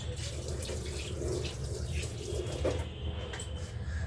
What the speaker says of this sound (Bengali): এটাকে এবার আমি একটু ধুয়ে নেবো হাতটা